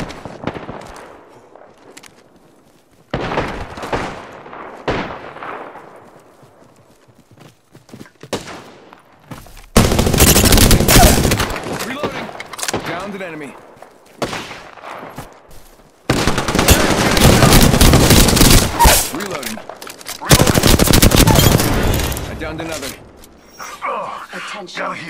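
Bursts of automatic gunfire in Apex Legends come in several loud, sustained volleys separated by quieter gaps, with game voice lines and talk between them.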